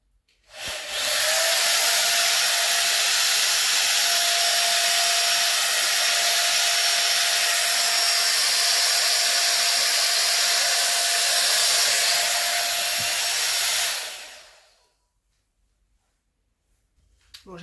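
A hair dryer switches on and blows with a loud, steady whooshing roar for about thirteen seconds before winding down to silence.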